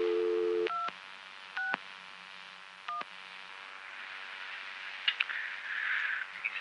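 Telephone dialing tones on a 1970s local coin line: a few short, clear tone pulses spaced apart over a faint hum, followed by quieter line noise and clicks.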